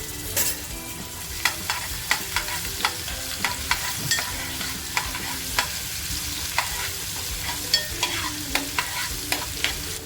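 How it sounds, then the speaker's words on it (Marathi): Chopped onion fries in hot oil for an egg masala, a dense, even sizzle close up, punctuated by regular sharp taps of a spoon stirring against the pan. "मग आपलं तेल छान टाकलंय कांदा जो कापून घेतलाय तो कांदा टाकते"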